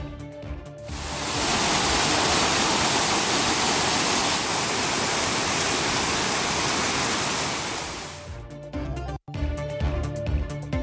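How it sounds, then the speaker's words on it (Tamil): Heavy water roars down waterfalls in Ooty after prolonged heavy rain, a loud, steady broadband rush that fills several seconds before cutting away to faint music. "நீர்வீழ்ச்சிகளில் ஆர்ப்பரித்து கொட்டும் தண்ணீர்"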